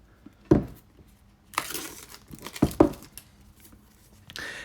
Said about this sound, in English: So, let's cut the seal.